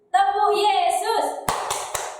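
At an online Sunday school session, a voice chants the Tepuk Yesus rhythm, followed by three distinct sharp hand claps spaced evenly and close by, the chant sung over the start of the clapping.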